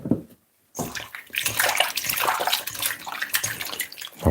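Water runs and splashes into a kitchen sink as a raw chicken is washed, a close, continuous rushing stream that starts abruptly after a brief silence.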